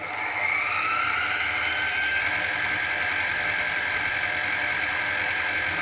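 Hover scooter build machine spinning up to 3000 rpm with a steady high whir and broadband hiss while its cutter bites into wet paper, continuous and close, no voices.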